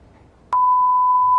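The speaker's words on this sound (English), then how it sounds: "We've beeped out most of this video." A single loud, steady electronic beep tone cuts in abruptly and holds, drowning out everything else.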